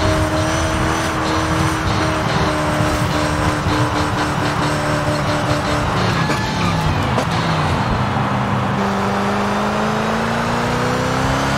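Koenigsegg Jesko hypercar engine in Forza Horizon 5, a loud continuous roar with rising and falling gear pitch as the car accelerates and shifts along a road.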